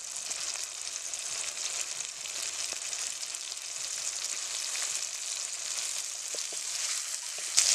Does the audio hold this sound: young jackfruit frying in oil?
yes